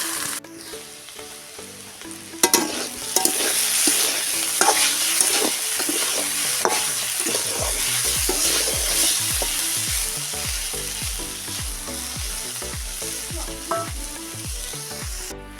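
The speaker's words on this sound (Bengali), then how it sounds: "আমি প্রথমে ভেজে নেবো বিম কড়াই আমি সব সবজিগুলো ভেজে নিয়ে" Vegetables sizzle and crackle as they fry in oil in a kadai, with occasional stirring clatter from a utensil against the pan, steady and close throughout.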